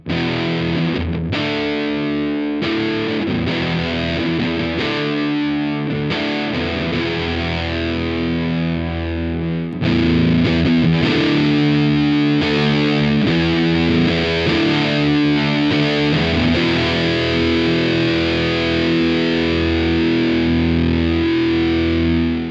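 A distorted electric guitar through a Ram's Head Big Muff fuzz pedal, with a thick, aggressive fuzz tone, plays a continuous riff of chords and notes, loud and sustained throughout.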